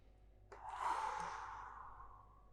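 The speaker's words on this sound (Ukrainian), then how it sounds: "Глибоке дихання. Вдих через ніс, видих через рот." One slow, deep breath from a calming exercise, breathed in through the nose and out through the mouth. A soft airy exhale swells and fades over about two seconds, close and quiet, with no speech.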